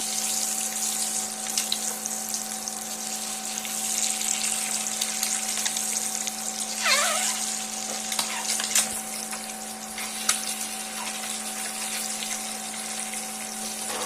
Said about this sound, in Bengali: দুটো পিটি লালচে করে ভেজে নেব